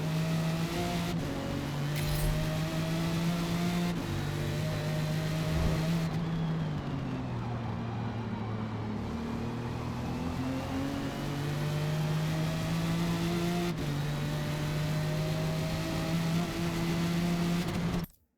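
Jaguar XJR-15 engine in a racing video game on sport tires, revving steadily with gear shifts and a drop in pitch, loud and continuous with no talk over it.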